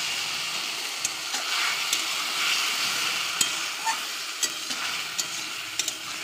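Mustard paste with salt and turmeric going into fried radish in a pan, giving a steady, close sizzle with occasional sharp clicks of stirring or utensil taps.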